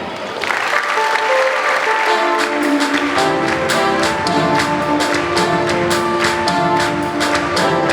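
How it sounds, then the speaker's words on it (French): Sustained applause from a congregation fills a church during Sunday mass, dense clapping building to a steady roar that continues throughout, with a held organ or sung tone sounding beneath it. "On peut également les applaudir."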